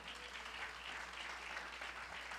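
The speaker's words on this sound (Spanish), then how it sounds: "Dele un aplauso al Señor." Applause from a church congregation fills the space, a steady, dense wash of clapping at moderate distance that holds evenly without any voices breaking through.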